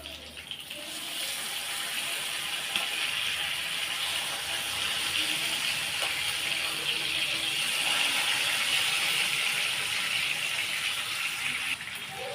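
Fish frying in a pan for a Tamil fish fry, a steady close hiss and crackle of hot oil that holds unbroken for about twelve seconds with no talk.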